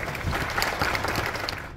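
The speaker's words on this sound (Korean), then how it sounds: "박수로 모시겠습니다." Audience applause welcoming a presenter from KB Real Estate Trust at a reconstruction briefing for the Hansol apartment complexes in Jeongja, Bundang, a dense, steady clapping close by throughout.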